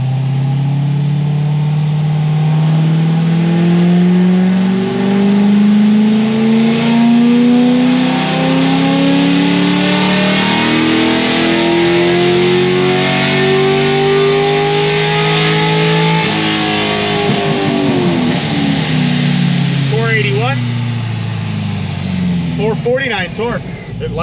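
A cammed LS3 V8 in a maroon Chevrolet Corvette Grand Sport revs loud and close, pitch climbing and falling through several sweeps, with someone talking over it.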